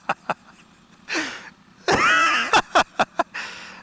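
A 2019 Kawasaki H2 Carbon supercharged motorcycle engine blips under partial throttle in a couple of quick rising-and-falling revs, close by, with short sharp clicks in between.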